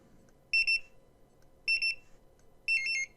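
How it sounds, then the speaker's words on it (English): A barcode scanner sounds three short, high electronic confirmation beeps after scanning setup barcodes, each a quick double or triple chirp, evenly spaced and clear over a quiet background. "you hear that tone that it makes when you scan the 6th one"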